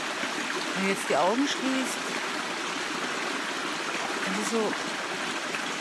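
A babbling brook flows steadily around a rock, a soft continuous trickle and gurgle heard close up, while someone speaks quietly over it.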